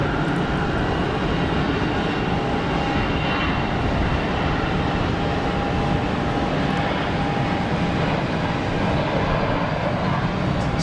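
An EasyJet airliner takes off from Geneva Airport bound for Nice, a loud sustained jet roar with a thin steady whine held across the whole stretch.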